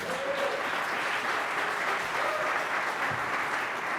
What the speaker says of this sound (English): Round of applause for everybody who presented today